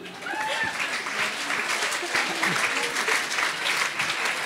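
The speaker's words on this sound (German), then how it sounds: "Applaus." Audience applause at an evening show in a student bar, steady sustained clapping from a crowd throughout, fairly close and even in loudness.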